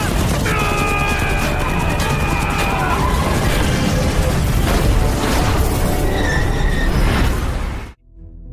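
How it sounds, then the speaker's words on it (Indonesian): A dense, loud barrage of gunfire and crashing impacts from a violent film fight scene runs for about eight seconds under narration and music, then cuts off abruptly. "Tembakan bertubi-tubi pun dilepaskan, sehingga membuat situasi semakin tegang."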